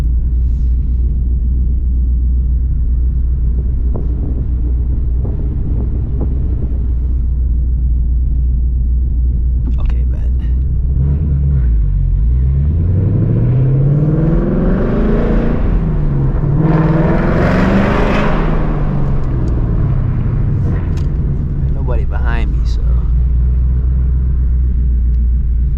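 Catless Ford S650 Mustang GT V8 driving through a city downtown at night, deep steady exhaust rumble that swells into loud revving sweeps midway with some crackle, close and continuous, with people talking over it at times.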